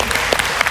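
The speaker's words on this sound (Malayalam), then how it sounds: "നല്ല കൈയടി." A comedy show audience claps in a steady, dense burst of applause, loud and close, with no talk over it.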